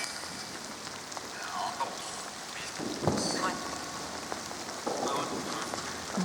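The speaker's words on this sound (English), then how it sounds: "I'm getting hammered with the rain here." Heavy rain falls steadily outdoors in a soft continuous hiss with scattered louder drops and brief gusts of noise, while someone talks quietly in the background.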